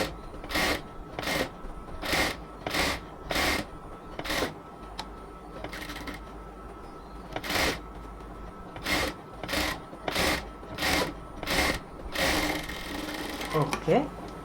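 A sewing machine stitches a cotton dress in a rapid series of short, close mechanical bursts, separated by brief pauses, with faint rustling between runs.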